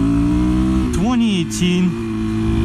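A 2018 Suzuki DRZ400SM supermoto on Michelin Power RS tyres hums at a steady engine note while being ridden, then revs up and drops back in two quick swells, loud and close, with a voice talking over it.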